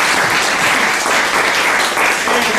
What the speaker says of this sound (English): can we give a big round of applause for our